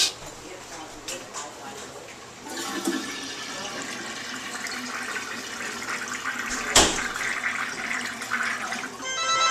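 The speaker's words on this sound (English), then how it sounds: "The toilet's not flushing." A faulty toilet that will not flush properly, with roots previously found in the flange, is tried: a rushing water flush swells and churns steadily, close and fairly loud, with faint speech at times.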